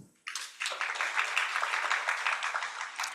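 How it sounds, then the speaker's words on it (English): A symposium audience breaks into applause after a brief silence, a dense sustained wash of many hands clapping that holds steady to the end. "Please clap until she gets on stage."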